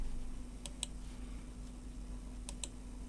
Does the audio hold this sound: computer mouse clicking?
yes